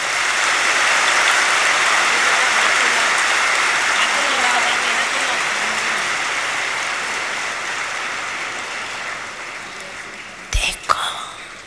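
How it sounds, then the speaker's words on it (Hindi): A large audience at a spiritual gathering applauds in a long, dense wash of clapping that slowly fades, ending with a few brief knocks and thumps. "हाँ, ताली बजाओ।"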